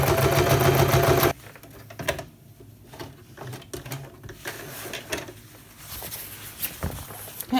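A sewing machine topstitches a seam allowance on a coat, running slowly in short, uneven bursts of quiet mechanical rattling with pauses between, after a louder opening second.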